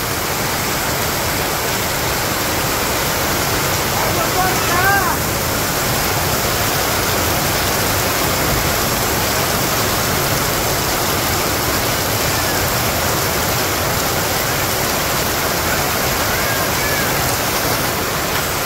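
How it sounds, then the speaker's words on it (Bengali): Heavy monsoon downpour in a Bangladeshi village, a loud, unbroken roaring wash of rain close by, with a brief faint sound rising above it near the middle. "এই যে বৃষ্টি দেখেন কি তাহলে বৃষ্টি হয়েছে"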